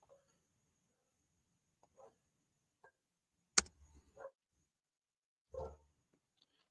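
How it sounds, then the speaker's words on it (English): Annie the dog barks in a few sharp, separate woofs from nearby, scattered across an otherwise quiet room with short pauses between them. "Annie is barking"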